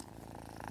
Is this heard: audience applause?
no